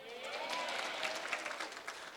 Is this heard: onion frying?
no